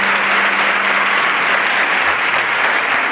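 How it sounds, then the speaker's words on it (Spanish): An audience at a conference applauds a speaker, with dense, loud clapping that holds steady for a few seconds. "Así que un gran aplauso para Francisco Castaño"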